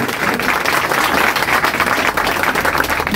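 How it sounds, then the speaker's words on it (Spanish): A crowd at a Dominican political gathering in El Seibo applauds an engineer being welcomed, a dense, loud, continuous roar of clapping with no speech. "que lo recibimos con fuerte aplauso"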